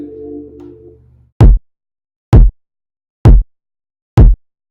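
Four loud, punchy kick drum hits land at a steady pace with silence between them, after a brief muffled tone fades out.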